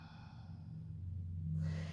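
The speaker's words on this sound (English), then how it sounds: "Another full breath in and out" One slow, deep breath in and out during a yoga child's pose, soft and close, swelling gently as the air is drawn in and then let go.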